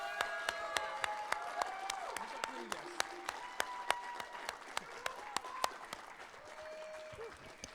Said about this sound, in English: So give him a special round of applause too